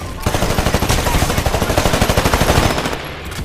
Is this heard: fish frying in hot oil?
no